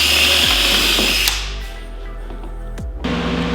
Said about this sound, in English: So what I'm doing now is drilling and countersinking.